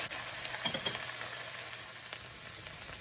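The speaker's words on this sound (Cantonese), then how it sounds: "煎嘅時候，盡量將啲薯仔攤平，盡量每一個薯仔都可以煎到" Potato pieces fry in a pan with a constant bright sizzle and crackle of hot oil, close and steady throughout, with occasional soft scraping from stirring and no talking.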